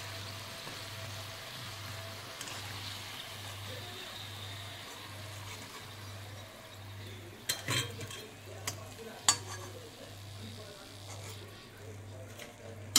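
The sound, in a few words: modak frying in oil on low flame, stirred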